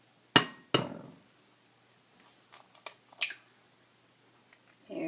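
Two sharp cracks of an egg shell against a bowl rim while making cupcake batter, close and distinct, followed by a few fainter clicks and taps in a quiet kitchen.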